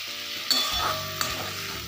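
Onions frying in a pan for chicken biryani as they are stirred toward light brown, a steady close sizzle with two brief metallic clinks of the spoon against the pan.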